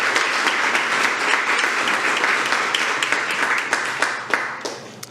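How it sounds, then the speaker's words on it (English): Audience applause at a school board meeting, a steady burst of many hands clapping that lasts several seconds and thins out toward the end. "Let's give them a round of applause as well."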